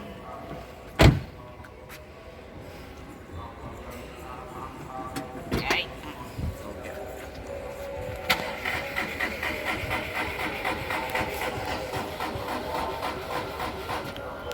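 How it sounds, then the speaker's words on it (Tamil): A Volkswagen Polo being restarted after sitting unused for a long time, a sharp knock early on, then a steady, rhythmic mechanical churn of the engine cranking without firing that runs to the end, with voices in the background. "இப்போ திரும்பி ஸ்டார்ட் பண்ணுறேன்"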